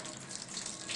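Water overflows steadily from a constant-level tank in a Reynolds flow experiment, a continuous close rushing splash with no pauses for the whole second.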